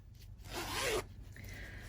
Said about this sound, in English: it just seems to be easier for some of the kids to zip it this way than it is for them to zip across the top